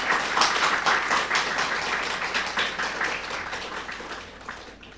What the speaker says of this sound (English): Let us all give a big round of applause to them.